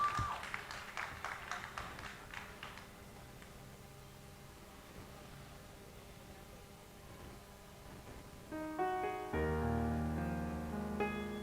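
Applause for an audition contestant at a Haitian youth talent show: a short burst of scattered clapping at the start that fades into quiet room noise, then sustained music comes in toward the end.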